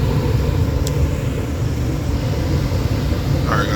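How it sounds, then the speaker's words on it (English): A Rheem gas furnace motor comes on during a tune-up, giving a steady low hum and rumble with no talking. "One motor turned on."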